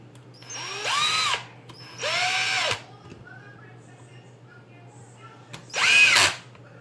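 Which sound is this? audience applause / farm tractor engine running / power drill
power drill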